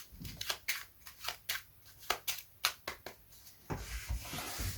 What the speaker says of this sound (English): So this shuffle goes under the name the Optical Shuffle in the Royal Card Magic.